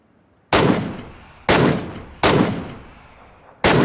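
Gunfire in the PUBG video game, four loud, sharp shots at uneven intervals, each with a decaying echo tail, close and without talking.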